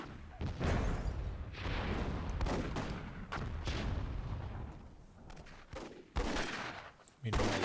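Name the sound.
helicopter gunfire in Myth II video game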